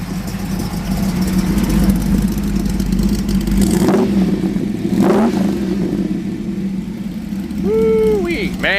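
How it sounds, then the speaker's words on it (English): A 1961 Ford Falcon wagon's exhaust burbles at a low, steady idle, then swells with a few revs, heard up close and loud. "Go back there and listen to the exhaust."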